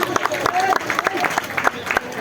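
A crowd at a cricket game in Narsingdi, Bangladesh, claps in quick, uneven bursts close by, mixed with chattering voices.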